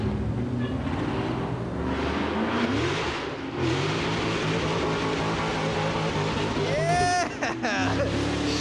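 Supercharged Dodge Challenger Scat Pack with a big blower and custom exhaust pulls out and rips through the gears, a loud sustained engine roar rising in pitch, with bystanders talking and cheering over it.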